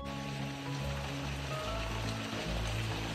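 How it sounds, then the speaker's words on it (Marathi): Heavy monsoon rain in Konkan pours steadily, a dense continuous hiss of water with a low rumbling undertone, close and unbroken. "आज दररोजपेक्षा भरपूर पाऊस आहे, जाम पाऊस आहे."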